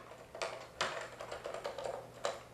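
Fingers type on a Topre keyboard, making soft, muted keystrokes in an irregular run of close taps, with a few sharper presses standing out.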